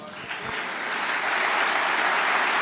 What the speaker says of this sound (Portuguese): Aplaude Jesus aí, irmão.